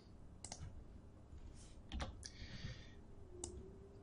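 Sparse computer keyboard typing, a few quiet key clicks in short bursts at close range against a soft background hum.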